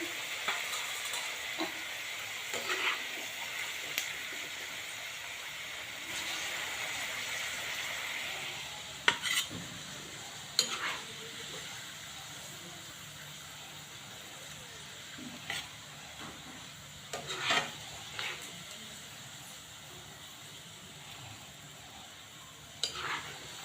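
Cooked ivy gourd is scooped from a pan onto a plate with a spoon. The close, steady sizzling hiss of hot oil is broken by several sharp scraping clinks against the pan, with no one speaking.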